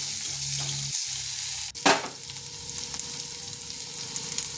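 Boiled potato slices fry in a pan with a steady broadband sizzle. A brief clatter of stirring comes near the middle, and the frying carries on evenly afterwards with no voices.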